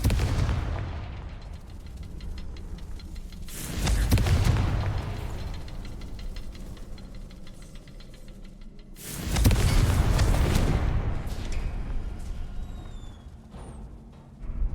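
Confringo blasting spell in Hogwarts Legacy going off twice, each a loud booming explosion with a rumbling tail, separated by quieter game ambience.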